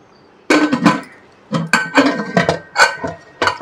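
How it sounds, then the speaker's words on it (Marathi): Metal clanks and clinks as a pressure cooker lid is fitted and locked over moringa soup, a series of sharp close knocks and scrapes with short pauses between. "झाकण लावते कुकरला"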